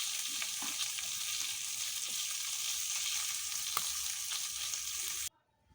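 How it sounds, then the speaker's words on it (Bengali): A fish head fries in a pan for a Bengali mixed-vegetable dish, giving a steady close sizzle with small crackles and a stirring scrape, with no talk, then cutting off abruptly near the end. "এখানে মাছটা ভেজে নিচ্ছি মাছের মাথাটা"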